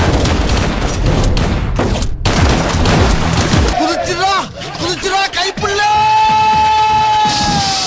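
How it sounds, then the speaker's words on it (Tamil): Gunfire and explosive booms from an Indian action film fight scene, loud and dense, mixed with shouting voices and dramatic music swelling toward the end. "வில்லன்களெல்லாம் வளைச்சு வளைச்சு சுட்டுட்டு இருக்காங்க"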